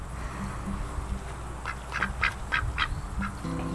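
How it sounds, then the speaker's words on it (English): Ducks quack in a short burst of bright, repeated calls in the middle of the clip, set against a steady outdoor garden background hum. "the ducks won't be too happy because they'll lose access to this"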